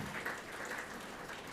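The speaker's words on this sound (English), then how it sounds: "Give them a big round of applause." Applause rolls through a morning business forum audience, a short steady wash of clapping at moderate distance with no pauses.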